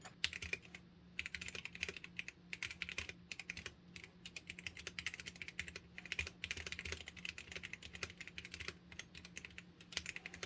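Continuous rapid typing on a white Gamakay K87 TKL mechanical gaming keyboard, crisp clacky keystrokes in a steady stream for several seconds, close and fairly quiet, with no talking.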